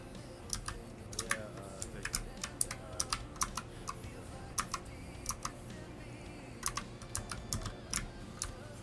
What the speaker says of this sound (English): like my keyboard's like clanking?